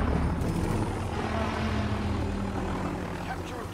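A helicopter in Call of Duty Modern Warfare thrums steadily throughout, a continuous low rotor drone that stays loud and even, with a voice talking over it.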